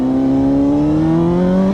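A Honda CBR600RR motorcycle revs hard in first gear, a loud, close engine note climbing steadily in pitch through one continuous acceleration without a break.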